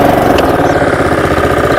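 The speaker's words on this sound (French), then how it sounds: "Le démarrage de cette tondeuse est extrêmement facile grâce à la poignée de démarrage qui est située juste ici." A Honda HRX 537c VYE petrol lawn mower engine runs loud and close with a steady low chugging idle, heard alone.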